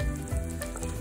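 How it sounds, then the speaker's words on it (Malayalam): Pieces of paneer shallow fry in hot oil for chilli paneer, crackling in a brief, close, steady sizzle with no voices. "അപ്പം നമ്മുടെ പനീർ കഷ്ണങ്ങളെല്ലാം ഇതിലേക്ക് ഇട്ട് കൊടുക്കാം"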